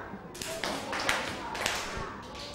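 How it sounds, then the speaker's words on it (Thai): Students in a classroom clap their hands together in unison, a few sharp group claps over a noisy room background with some talk. "ปรบมือ"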